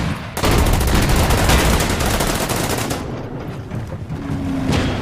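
Rapid gunfire from the World War II strategy game Order of Battle: Winter War, a dense, sustained clatter of shots running loud throughout with no talking.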